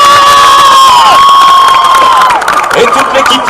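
A roadside crowd cheers, shouts and applauds for French champion cyclist Steven Tronet at Paris-Roubaix 2016, loud and close, with high whoops and children's shouts over clapping.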